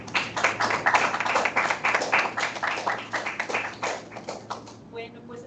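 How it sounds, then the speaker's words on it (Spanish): Scattered clapping from a small audience at the close of a hybrid academic seminar on linear binary classification in Python, held at a university basic-sciences division; irregular, fairly close claps lasting several seconds before fading out. "Y le damos un aplauso."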